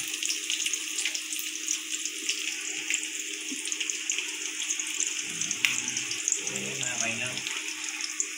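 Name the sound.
onion being fried for murmura chivda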